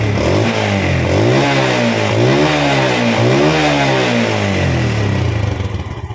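A small motorcycle engine of the Vega, Jupiter or Mio kind is revved and eased back to idle during valve and idle adjustment, loud and close, its pitch repeatedly rising and falling with no one speaking.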